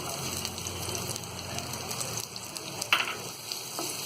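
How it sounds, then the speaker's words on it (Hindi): Chopped onion frying in a pan with a spoonful of hot oil, a steady close sizzle with scattered crackles and one sharper spoon clink near the end. "जब तेल थोड़ा गर्म हो जाएगा तो उसमें हम ये कटा हुआ प्याज डाल देंगे"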